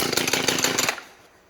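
A small two-stroke engine on an Echo SRM-230 string trimmer runs loud and buzzy at close range for about a second, then cuts off abruptly into quiet.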